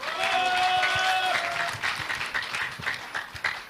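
An audience at a Liberty Korea Party national convention in Jeju claps to welcome a leadership candidate, with fairly light applause and scattered claps that thin out. A brief tonal sound rings over the opening.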